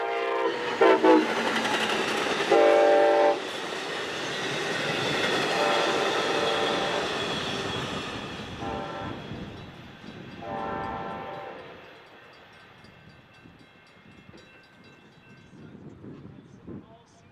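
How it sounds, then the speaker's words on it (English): A passing Amtrak passenger train led by a Siemens Charger locomotive roars close by with a loud horn blast at the start, then rumbling wheels and clatter slowly fading into the distance. "This is the 3:05 p.m. departure heading for Kansas City, behind Amtrak's new Siemens Charger"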